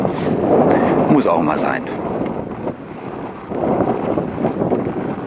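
Strong wind buffets the microphone on a seaside pier, a loud continuous roar that swells and eases, while someone speaks German over it.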